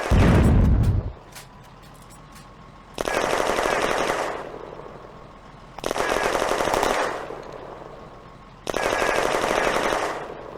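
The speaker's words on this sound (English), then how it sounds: "The open-topped Panzerjäger withdraws as the Panzer IV-E puts suppressing fire on the Soviet machine gun" Bursts of machine-gun fire from a Panzer IV-E tank suppressing a Soviet machine gun in the Firefight wargame: a loud blast, then three long, rapid automatic volleys separated by pauses.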